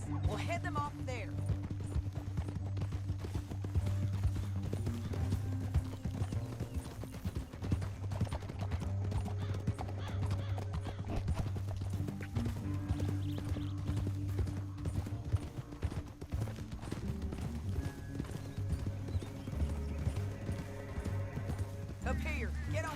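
Horse hooves clip-clopping in the Red Dead Redemption 2 western video game, a steady rhythmic run heard under a loud music score and character dialogue throughout.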